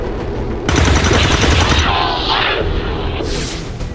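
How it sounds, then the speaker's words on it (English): Rapid automatic gunfire from an Overwatch reaction shot in the video game XCOM 2, a loud sustained burst followed by a fading whoosh and a second sharp crack, with a voice partly heard. "Alright, and here's the Overwatch shot."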